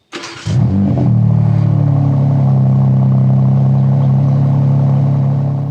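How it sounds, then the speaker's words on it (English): A BMW M3 CS (G80) with a titanium rear exhaust box fires up with a sharp burst, then settles into a loud, steady, deep idle rumble that holds to the end. "the whole rear back box is now titanium, so it's reducing weight and, as I've found out, giving us a slightly different tone, especially at idle"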